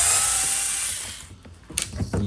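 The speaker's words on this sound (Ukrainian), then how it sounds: "викручуємо спочатку ці два саморіза підходящим Т-15" A T15 screwdriver or driver unscrews two self-tapping screws from a Jura Micro / ENA coffee machine brewing unit, giving a close, steady whirring hiss that fades, followed by a few short clicks and rattles.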